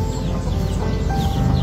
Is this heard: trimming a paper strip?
no